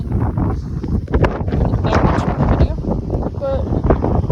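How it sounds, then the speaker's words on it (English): Gusty wind blows outdoors under a tornado watch, buffeting the microphone with a steady roar while leaves fly about, and someone talks over it throughout. "wind's blowing, that's all. Leaves flying everywhere."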